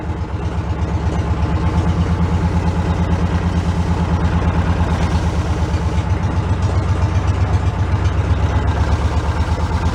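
A Cushman meter maid utility vehicle's small engine runs steadily in first gear, a close, continuous low throbbing hum with a regular pulsing rhythm and no talk over it.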